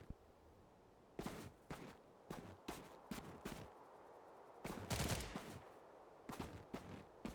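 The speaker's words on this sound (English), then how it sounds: "Who was shooting at me?" Bursts of gunfire in the online shooter STALCRAFT: X, scattered single shots and short rapid volleys at moderate distance, spaced irregularly with quiet gaps between, no talking.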